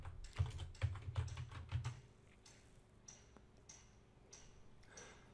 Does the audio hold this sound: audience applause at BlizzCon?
no